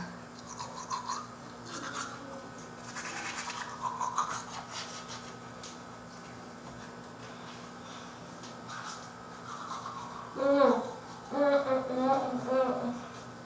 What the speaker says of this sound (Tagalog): Toothbrush time.